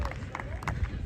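Crowd at a college baseball game, Baldwin Wallace Yellow Jackets against Marietta Pioneers, shouting and calling out in short, scattered bursts from nearby in the stands.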